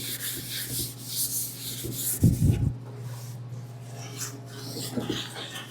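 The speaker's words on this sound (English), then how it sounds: "So I'm just gonna do a 320 and we'll sand the whole thing, top to bottom." Light hand sanding of a single lacquer coat with 320 grit sandpaper, soft rubbing strokes with a brief firmer burst midway, close and steady with no talk.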